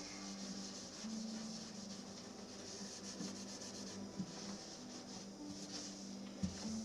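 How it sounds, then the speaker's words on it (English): Oil is rubbed by hand over the outside of a Larrivée acoustic guitar body, giving a steady, soft, close rubbing and wiping hiss with a few light bumps, heard alone without talk. "I'm actually just going to rub this oil kind of all over the outside of here"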